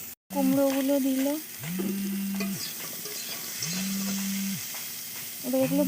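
Pumpkin pieces frying in hot oil for a fish curry make a continuous close sizzle under repeated scraping stirs, with recurring tonal sounds, likely a voice, over the top.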